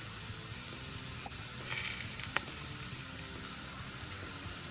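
Sliders cook on a Homping grill with a steady, quiet sizzle and faint crackles and pops, continuous throughout with no talking.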